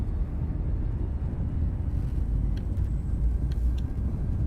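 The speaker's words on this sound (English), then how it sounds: "Frameshift drive charging." Frame shift drive charging in Elite Dangerous, a steady deep engine rumble that builds evenly, with a few faint electronic tones over it.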